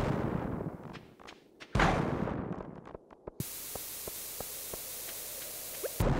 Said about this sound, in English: let's chuck all the bombs down